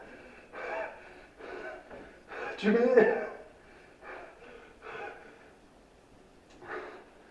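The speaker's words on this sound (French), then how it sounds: "Tu n'es pas essoufflé par l'émotion, tu es essoufflé tout court." A man pants out of breath in a string of audible gasps and heavy exhales, close to the mic, mixed with a few spoken words.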